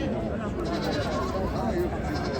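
Goats and sheep bleating at a livestock market in Ganja, a dense crowd of overlapping close bleats mixed with people talking throughout.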